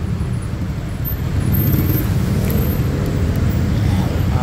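Heavy, congested road traffic with cars and buses, a loud continuous roar of engines and tires that swells slightly and holds steady throughout, close by, with no clear talking.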